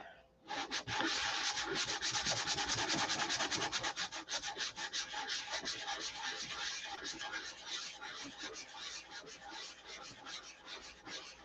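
Sandpaper block rubbing paint on a boat rudder during a paint repair, a steady close scratchy rasp of quick back-and-forth strokes that runs continuously after a brief start.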